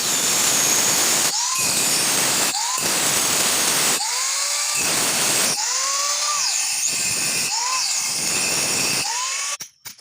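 A power tool grinds and smooths the outer surface of a round stone mortar, a loud continuous whine broken by brief pauses and restarts, with the pitch sliding each time the motor spins up, close and alone.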